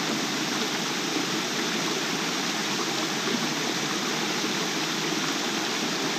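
A forest waterfall and stream in Loyalsock State Forest rush with a constant, dense hiss of falling water, steady and close with no pauses.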